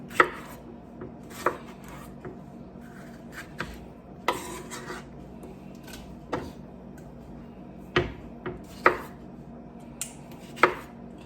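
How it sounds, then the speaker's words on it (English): A sharp knife chops an onion on a board as a leftover soup is prepared, about a dozen crisp, separate knocks at uneven intervals over quiet room noise, with no talking. "I'm going to cut up an onion."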